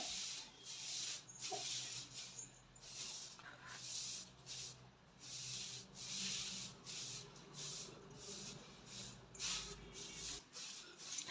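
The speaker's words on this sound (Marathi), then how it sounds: "हे पहा सगळ्या पुऱ्या अशा लाटायच्या" Puris of millet flour mixed with red pumpkin being rolled out with a rolling pin, giving soft, repeated rubbing strokes in a steady rhythm, close and fairly quiet with no talking.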